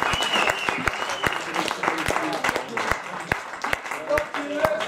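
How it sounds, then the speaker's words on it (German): Sustained concert audience applause for a rapper in Sankt Moritz, dense clapping throughout, a steady crackle of many hands, fairly loud and close, with a few scattered sharper claps standing out. "nochmal einen großen Applaus"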